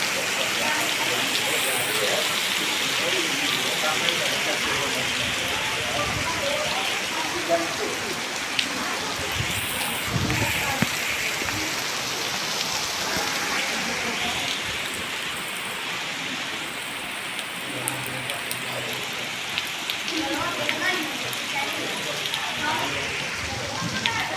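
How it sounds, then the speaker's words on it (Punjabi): Heavy rain falls in a constant, roaring patter for a long stretch at a Sikh gurdwara, with faint voices now and then beneath the downpour. "ਬਾਬਾ ਜੋਰਾਂ ਦੇ ਮੀਂਹ ਪੈਂਦਾ ਅੱਜ"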